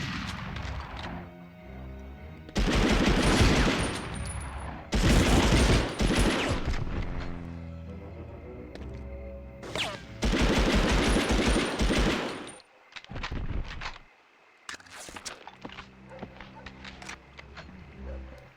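Rifle gunfire and battle noise in the PS1 video game Medal of Honor come as several loud bursts of shots separated by short quieter gaps, forceful and close.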